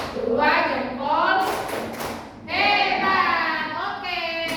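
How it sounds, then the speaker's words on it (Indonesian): A class of primary school children in a lesson room doing a rhythmic thumb clap together, with soft repeated taps and thuds mixed in among children's voices. "Kita kasih tepuk jempol untuk kelompok 1."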